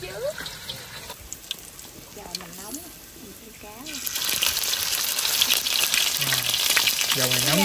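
Fish sizzling in hot oil in a pan, a steady loud crackling hiss that swells and grows denser partway through, with someone talking over it.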